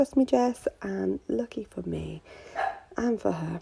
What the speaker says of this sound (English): That's the dog. She's giving me a little bark.